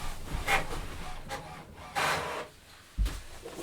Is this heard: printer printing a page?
yes